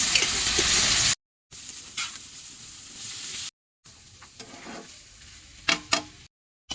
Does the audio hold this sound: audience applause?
no